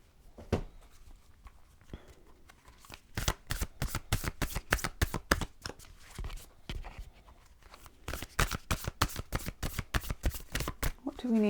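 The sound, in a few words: shuffling animal spirit cards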